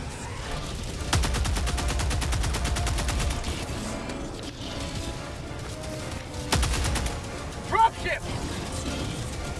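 Rapid bursts of automatic gunfire from the player's standard rifle in Helldivers 2, two loud volleys separated by quieter battle ambience, with a person talking over the action.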